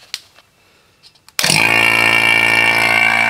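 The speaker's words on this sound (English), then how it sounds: "I'm going to turn on the pump here." After a few small clicks and handling noises, a vacuum pump connected to a Honda Civic's AC system starts abruptly and runs with a loud, steady, close-up mechanical drone.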